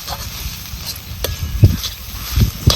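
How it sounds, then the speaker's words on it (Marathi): Low, continuous sizzling with scraping and stirring clatter as vegetables are tossed on a tava, steady throughout with a few louder knocks. "जोपर्यंत तव्याला भाजी लागत नाही तोपर्यंत आपल्याला ही परतून घ्यायची"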